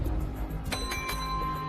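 A hotel reception desk bell is struck, giving a few quick bright dings that ring close over a busy room background.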